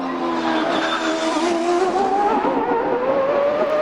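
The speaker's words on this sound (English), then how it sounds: "D'Amata on a hot lap, headed for Formula One" A CART race car on a qualifying hot lap at the 2002 Mexico City event gives a loud, sustained engine whine that climbs steadily in pitch as it pulls hard, with a hint of tire squeal and no one speaking.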